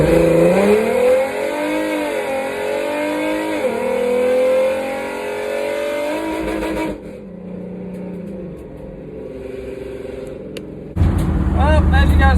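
Nitrous-equipped drag race car accelerating hard down the track, a loud rising engine roar with a gear shift, fading away midway before a close, sudden burst of noise near the end, with voices also present.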